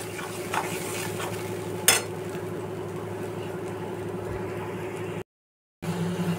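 Masala with onion sautéing in oil for a fish recipe: a continuous close sizzle with a steady low hum beneath and a few scraping stir strokes, one sharp clack, then a short silent gap before the frying resumes.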